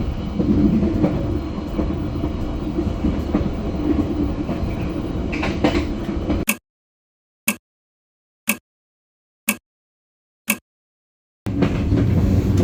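Inside a KA Bengawan passenger train on the move, a steady low rumble of the running carriage fills the first half, then drops into near silence broken by a few short, sharp clicks before the rolling noise returns.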